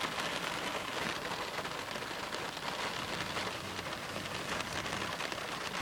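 Steady rain falls during a September thunderstorm in Dublin, Indiana, heard from inside a car. The even hiss keeps a constant level throughout, with no thunder or voices standing out.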